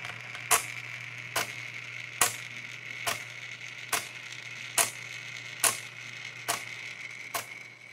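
A CDE antenna rotator turns an antenna, with a low steady motor hum under a regular series of sharp clicks spaced just under a second apart, close and clear.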